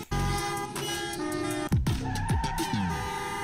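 Car horns honk in a musical pattern within a trailer, sharp toots layered over sustained tones and a rhythmic backing, fairly quiet overall with a brief burst of louder horn blasts midway.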